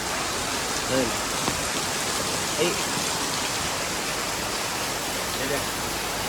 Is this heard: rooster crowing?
no